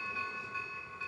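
A toy train bell rings steadily as a sustained chime, close and moderately loud with no talking.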